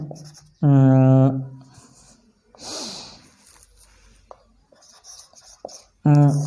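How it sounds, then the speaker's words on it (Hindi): A pen scratches out the word 'disadvantages' in short, close strokes with faint ticks, between brief bursts of someone speaking. "डिसएडवांटेजेस अभी लिख लेते हैं"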